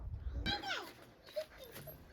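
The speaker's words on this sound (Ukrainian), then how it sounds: "Цей песик гавкає на мене." A small dog gives a single close bark followed by faint whimpering yips, heard outdoors in a yard with quiet background noise.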